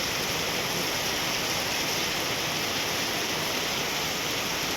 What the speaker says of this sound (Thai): ฝนตกพี่น้องเอ้ย